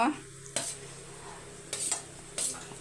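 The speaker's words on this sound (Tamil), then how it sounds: "இப்போ வந்து சாதத்தை இதில் சேர்த்துக்கலாம்" Cooked rice is stirred into a pan for a lunch box meal, with three sharp scraping strokes of a utensil over a faint continuous sizzle.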